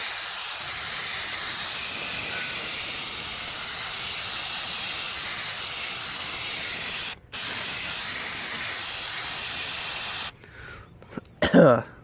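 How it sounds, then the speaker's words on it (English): A long, steady hiss of brake cleaner aerosol spray running continuously for about ten seconds, with a brief break midway, then quieter clicks and rustling at the end, on a 2011 Ram 2500 differential. "So when you spray it with brake cleaner"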